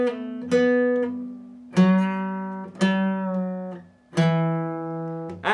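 A guitar riff played slowly, as a handful of clean single notes and small slides, each picked note ringing and decaying in an unhurried rhythm, clear and without talk.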